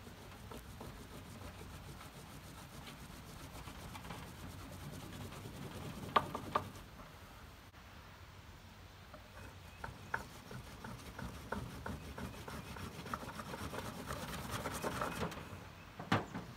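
A fire roll rubbed back and forth between wooden boards for friction ignition gives steady, close scraping and rasping with occasional sharper clicks and rubs as pressure shifts.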